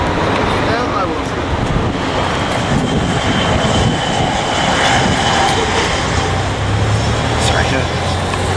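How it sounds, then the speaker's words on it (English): A JetBlue airliner comes in to land at Lindbergh Field, its engine roar loud and steady throughout with wind buffeting the microphone, a low rumble building near the end, and voices talking underneath. "here comes another JetBlue coming in"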